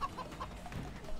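A chicken in the video game Moving Out gives a few quick, faint clucks across a brief moment, with soft game background noise underneath.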